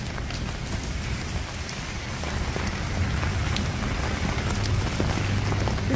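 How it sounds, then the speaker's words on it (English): Steady night rain pattering on a street outdoors, with scattered drips and light splashes, growing slightly louder. "It's nice to be walking in the rain."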